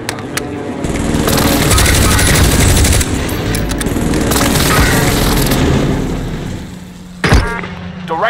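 An airstrike lands during a squad match in the video game Rebirth, with dense rapid gunfire and booming blasts rolling together for several seconds, then a sharp, loud explosion near the end.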